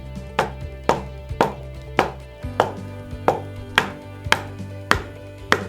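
A chisel is struck repeatedly while cutting into a striped wooden cutting board, making a dozen sharp, evenly spaced knocks about twice a second, close and clear, with no talking.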